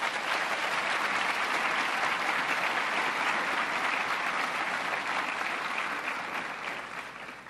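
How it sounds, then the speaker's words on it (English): A graduation audience at an Officer Candidate School ceremony breaks into loud, dense, sustained applause, many hands clapping at once before it slowly begins to fade near the end. "Please give these two individuals a round of applause."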